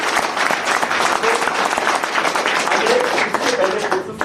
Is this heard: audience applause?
yes